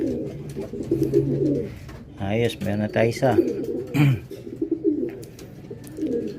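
Racing pigeons at a summer derby loft cooing in soft repeated throaty bursts close by, while someone talks over them.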